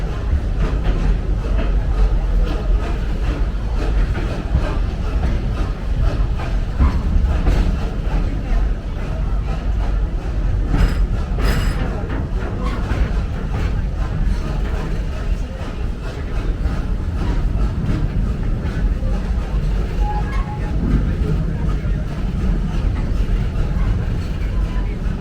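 Serengeti Express train ride at Busch Gardens Tampa, a steady rumbling roll of the train cars with continuous rattling noise, loud and unbroken, a brief clatter near the middle.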